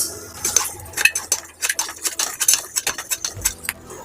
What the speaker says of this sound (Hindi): तो मूंगफली अच्छे से फ्राई हो चुकी है, अब हम इसे अलग बर्तन में निकाल लेंगे।